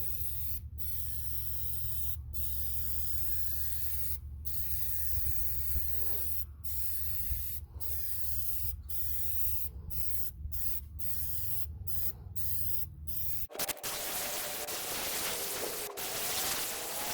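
Glossifier sprays from a partial aerosol can onto the plastic-dipped trim of a Ford Explorer in long continuous hissing bursts broken by short pauses, close and steady, then a rougher shift near the end.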